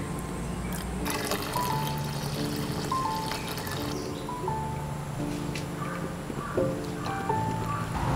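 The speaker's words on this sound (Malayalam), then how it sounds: "ഇനി നമുക്കിതിലേക്ക് പാലും കൂടെ ചേർത്ത് കൊടുക്കാം" Warm boiled milk poured into a pot of green gram payasam sweetened with jaggery syrup, a steady liquid trickle and splash close by, with light kitchen clatter around it and no talking.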